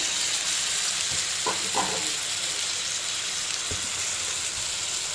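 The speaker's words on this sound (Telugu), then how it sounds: "చూసారు కదండి, ఉల్లిపాయ ముక్కలు అయితే వేగినాయి కొంచెం." Chopped onion and tomato pieces frying in oil for a brinjal and paneer curry, a steady close sizzle with a few soft clinks of stirring, with no talking.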